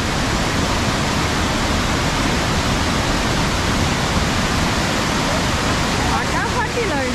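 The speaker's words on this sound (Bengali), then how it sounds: "পুরো সাদা জলটা উপর থেকে পড়ছে, উপর থেকে পড়ে এপাশে নিচ দিয়ে বয়ে যাচ্ছে।" A waterfall in Cherrapunji, Meghalaya, with white water plunging from above and flowing away below, roars as a loud, steady, unbroken rush close by.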